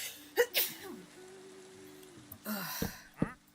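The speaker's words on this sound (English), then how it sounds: "Oh, I gotta sneeze again." A person sneezes up close, sharp bursts with breathy catches and a drawn-out voiced sound between them, some vocal noise mixed in.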